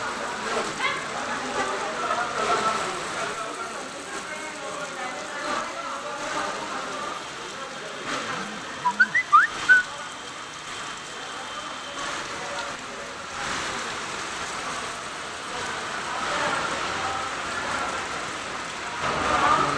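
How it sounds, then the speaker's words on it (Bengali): Heavy rain pours down steadily onto a flooded school field in Maijdee in a dense, unbroken hiss that runs the whole time, with only brief faint sounds poking through. "সকাল থেকে টানা বৃষ্টি হচ্ছে"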